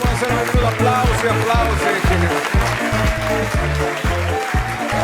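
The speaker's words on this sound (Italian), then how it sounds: "Questi sono applausi reali" Clapping from a live studio audience at a Sicilian music TV show, heard throughout alongside a prominent rhythmic music track with a steady beat.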